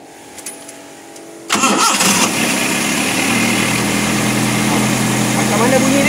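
A Nissan C22 Vanette with hard starting, a rough idle and low power cranks and fires up, quiet clicks then a sudden loud catch settling into a steady, slightly uneven idle close by, with brief talk beneath.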